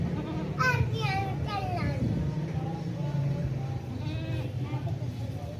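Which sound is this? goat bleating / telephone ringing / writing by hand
goat bleating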